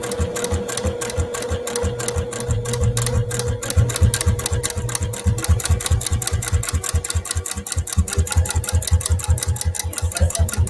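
A sewing machine top stitching a fabric bowl runs steadily and loudly, its needle pounding in a fast, even mechanical rhythm with no break from start to finish.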